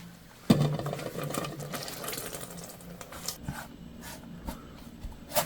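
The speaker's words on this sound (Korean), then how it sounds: "5분 이상 데친 톳은 찬물에 두세 번 정도 헹궈서 물기를 쭉 빼놓으면 돼요" Boiled hijiki seaweed rinsed in cold water, with running tap water and splashing, a sharp clatter at the start, then intermittent swishes and drips, close by.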